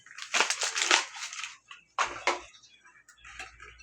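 A package of French vanilla instant pudding mix pours into a bowl with a crinkling, rustling rush of powder and packaging, in short bursts, close and fairly quiet.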